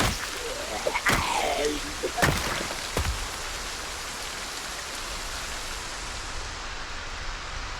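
Steady heavy rain pours through a dark storm in a zombie video game, a dense hiss that never lets up, with a few sharp knocks and a sweeping whine over it early on.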